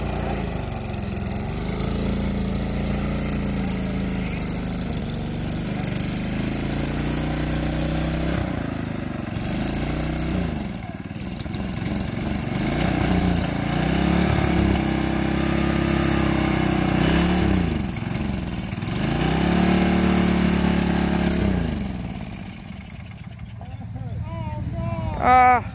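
A Sears Custom garden tractor's engine revs hard through a clay mud bog, its droning whine rising and falling in long surges, with onlookers talking over it.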